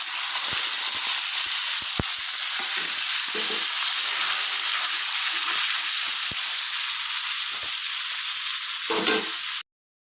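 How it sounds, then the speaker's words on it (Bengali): Paneer fries in hot oil with a continuous loud sizzle, dotted with quick pops and a few louder spits before the sound cuts off abruptly. "পনিরগুলো একটু ভেজে নেব"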